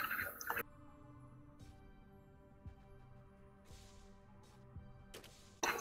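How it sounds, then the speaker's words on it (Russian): Water drips in the Aion online game, a few faint isolated drops falling in a quiet dungeon ambience, with brief louder bursts of game sound at the start and end. "с кого вода падает?"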